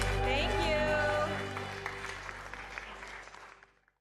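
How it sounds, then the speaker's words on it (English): Applause rises in a city council chamber under a speaking voice, then thins and fades out as the clapping dies away. "a big round of applause to everybody who's a part of the Hapa movement"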